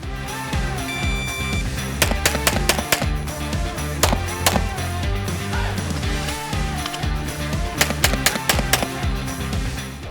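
Sharp gunshots crack in rapid strings at a head-to-head shooting competition, loud and close, fired in quick bursts over background music.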